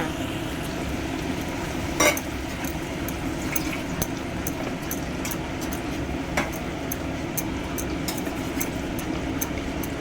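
A spoon stirs food in a kadai in a home kitchen while parathas with peas and stuffed potato are being cooked. Scraping and clinking come at an irregular pace, close up over a steady wet bubbling hiss, with no talk.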